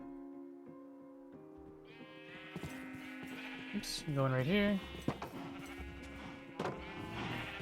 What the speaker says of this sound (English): Cool, so we have green sheep.